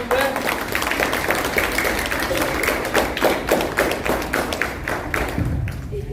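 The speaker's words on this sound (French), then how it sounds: "Applaudissez s'il vous plaît." A wedding congregation claps steadily, a dense continuous wash of applause with sharper individual hand claps standing out, loud and sustained for the whole stretch.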